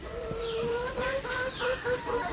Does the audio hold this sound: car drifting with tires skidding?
no